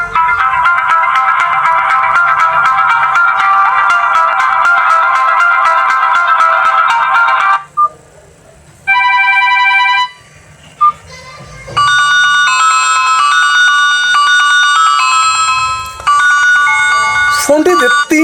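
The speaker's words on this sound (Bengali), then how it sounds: "ফোনটির যে রিংটোন একটু শুনবো" A mobile phone plays several electronic ringtones loudly at close range: a dense repeating melodic tone, then brief pauses and a different chiming tune with bright beeps.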